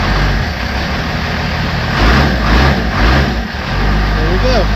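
Engine running just after its injectors were replaced, a loud low rumbling idle that swells twice as throttle is given, with a voice speaking briefly near the end.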